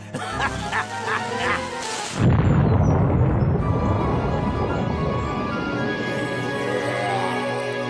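A single heavy explosion effect lands loud and sudden after a voice, then rumbles on with a long, fading crackle and debris.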